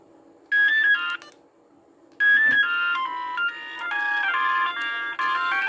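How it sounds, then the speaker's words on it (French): A bright electronic alarm melody from a vintage Alcatel OT511 mobile phone plays in short bursts, then a longer run of rising and falling synthetic tones, loud and close. "Donc ça c'était le réveil."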